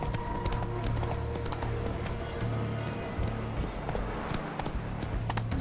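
Roach the horse trots in The Witcher 3, her hooves clip-clopping in a steady, close rhythm under continuous game music and ambience.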